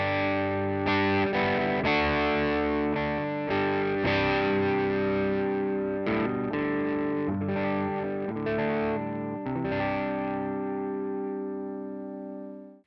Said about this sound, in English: Kind of a cool edge of breakup tone